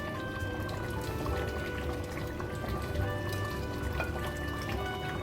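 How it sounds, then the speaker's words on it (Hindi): Crushed fried onions tipped into a pot of degi-style chicken korma, giving a soft pouring and sliding rustle over low kitchen background noise, steady and close with no talk. "अब हम अपनी प्याज इसमें डाल देते हैं।"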